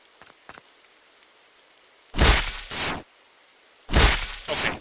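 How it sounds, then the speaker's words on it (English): Rain in the Roblox game Doodle World comes as two loud, broadband washes of a couple of seconds each. A few faint, brief taps sit in the quiet stretch before them, and nobody speaks. "It's probably because it's raining."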